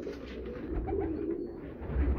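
Royal Teddy pigeons coo in low, rolling phrases, close and fairly loud with a steady hum behind them, growing fuller toward the end.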